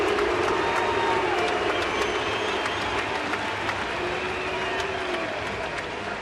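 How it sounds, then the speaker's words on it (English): Baseball stadium crowd at a Minnesota at Kansas City game cheers and applauds steadily after a hit to right field goes for a double, a broad sustained roar with scattered claps filling the whole stretch. "Bruce will stop at second base and listen to the crowd."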